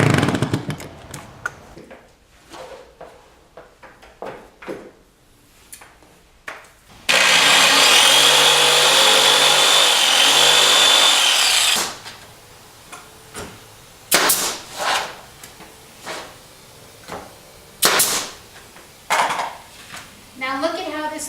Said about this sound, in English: put it on the screw just to lubricate it to get it to go in easier.